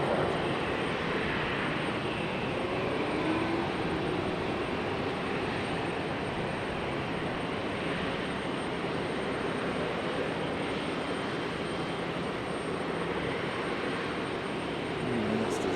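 An Airbus A350 departs Raleigh-Durham bound for Paris Charles de Gaulle, its jet engines a continuous, even roar filling the air at steady volume with a faint high whine, no speech.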